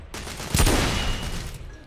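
Suppressing gunfire rattles out in the shooter game The Order: 1886, with one loud, close burst of shots followed by a sustained noisy echo of battle.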